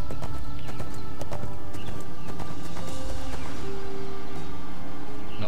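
Horse mount in the fantasy MMO ArcheAge, hooves clip-clopping in a steady rhythm alongside a whinny, set against continuous game music.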